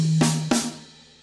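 A drum fill in paradiddle-diddle sticking, opening on a crash cymbal and moving to toms, with two bright cymbal-like strikes over a low sustained tone, fading out.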